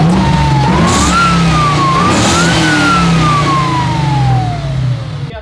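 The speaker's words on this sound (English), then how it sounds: "But that's what's whining, the blower?" The supercharger blower on an LSA engine swapped into an '87 Monte Carlo SS lets out a loud, steady whine that climbs and falls in pitch with the revs over a constant engine drone.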